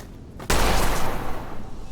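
A single sharp gunshot in the video game Witchfire, erupting suddenly after a quiet moment and trailing off into a long noisy decay.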